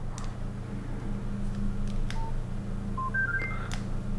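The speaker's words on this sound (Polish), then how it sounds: "o pip, takie piknięcie było, czyli nie ma karty SIM" Short electronic beeps sound from a Nokia 2700 Classic mobile phone, indicating no SIM card, a few quick tones near the end over a low steady background hum.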